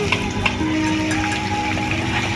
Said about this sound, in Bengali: পেঁয়াজটা এবার সুন্দর করে একটু ভেজে নেব।